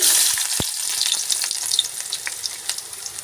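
Chopped onion sizzles and crackles in hot oil, a dense continuous frying hiss with scattered pops, loud and close, no voices.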